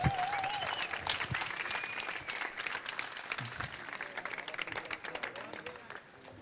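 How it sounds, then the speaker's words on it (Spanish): Audience applause at a robot climbing contest, sustained clapping with crowd noise and a few cheers, steady for several seconds before fading out. "¡Un aplauso fuerte!"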